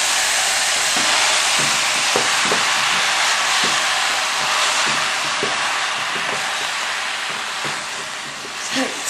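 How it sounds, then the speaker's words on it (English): Mincemeat, onions and garlic stirred in a hot pan for stuffed marrow, with a loud continuous sizzling hiss and faint scraping taps of the spoon underneath, close up. "Stir it all and get all the onions ready mixed in."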